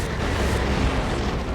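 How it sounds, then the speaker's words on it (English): Twin-linked lascannon hits land in a Dawn of War 2 3v3 battle, heard as a dense, continuous roar of explosive blasts with rumbling low end, steady and loud through the short span without any talk. "Did he take 2 direct hits there from both of those twin linked las cannons?"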